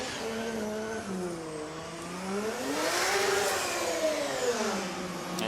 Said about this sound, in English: Benediktas Chirba driving a BMW E92 Eurofighter with 2JZ engine, 900 horsepower.